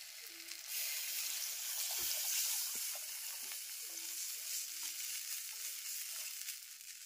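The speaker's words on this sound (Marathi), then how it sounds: "आता पाणी टाकते." Water hits a hot clay pan over a wood fire and a loud, steady sizzle and bubbling hiss fills the space, with faint clinks of stirring.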